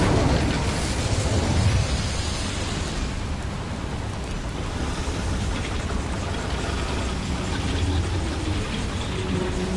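A steady, loud whooshing roar of flame from an Incendio fire spell cast in Hogwarts Legacy, a broad rushing burn that holds for the whole stretch with no pauses.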